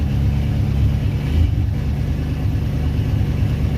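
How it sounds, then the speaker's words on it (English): A car engine idles too high and rough, with a low, rumbling drone, steady and fairly loud throughout with a slight uneven wobble. "I don't think it should be idling this high"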